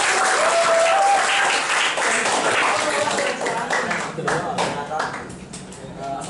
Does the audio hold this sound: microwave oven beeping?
no